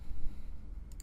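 Two quick, faint mouse clicks sound close together over a low hum while someone logs into ClassFlow with Google on a computer.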